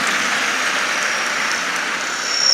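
Applause from a hall of Gontor pesantren students for a fellow student, a steady, even wash of clapping held at constant loudness for a couple of seconds.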